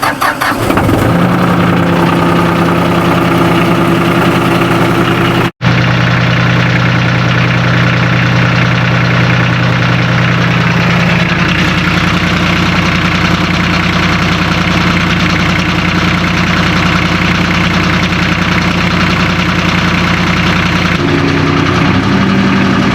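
A Ford compact tractor with a loader cranks over and fires, then settles into a loud, steady close-up idle with a brief cut early on and a small change in engine note near the end.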